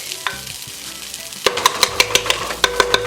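Rice parching in a pot for Guyanese shine rice, a quiet sizzle that turns into a quick rhythmic run of sharp scraping and stirring taps against the pot.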